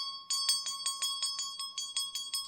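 An old antique school bell shaken by hand rings in a quick, steady series of about a dozen bright metallic clangs over a sustained ringing tone, close and alone.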